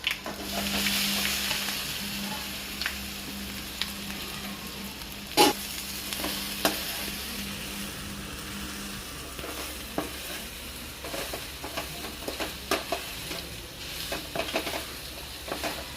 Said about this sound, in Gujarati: ગેસ બંધ કરીને આપણા મૂઠિયા નાખી દઈશું